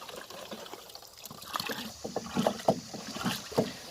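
Soil booster product is stirred into 200 litres of water, giving soft, irregular sloshing and splashing that grows busier toward the end, fairly quiet and without talk.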